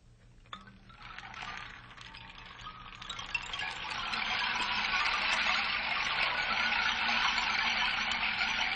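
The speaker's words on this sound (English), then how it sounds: "this is the sound of the rain tree." A rain stick being played, giving a steady bed of dense rattling grains that swells after a few seconds and then holds an even, fairly loud cascade close by.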